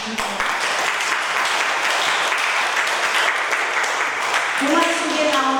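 Sustained audience applause at a prayer-house revival meeting, a steady loud wash of clapping that holds throughout before a voice begins speaking near the end.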